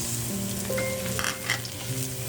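Onions sautéing in a pan, a continuous close sizzle with occasional stirring scrapes, no talk, over faint background music tones.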